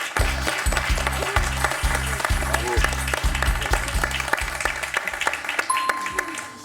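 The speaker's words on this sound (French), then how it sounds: "Diane, applaudie par Eleftheria" Applause for Diane, a contestant on a French quiz show, steady clapping from a studio audience under a rhythmic pulsing music sting, with a host talking over it.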